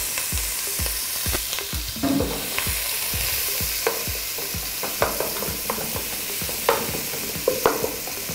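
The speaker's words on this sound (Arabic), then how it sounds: "كده بنشوح البصل حاجة عادية جدا" Finely minced onion sautéing in a pan, with a steady sizzle under frequent rhythmic scraping and tapping of a spoon against the pan, close and fairly loud, with no speech.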